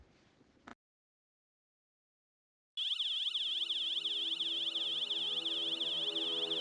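A loud electronic wailing siren sounds as an alarm system goes off in a video game. It starts suddenly after a brief burst of noise and a long silence, then rises and falls steadily and unbroken.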